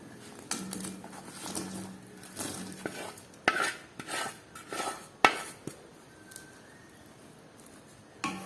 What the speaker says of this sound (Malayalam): ഈ സമയം നമ്മളിതിലേക്ക് ഫ്രൈ ചെയ്ത് വെച്ചിട്ടുള്ള മീൻ ഇട്ട് കൊടുക്കാം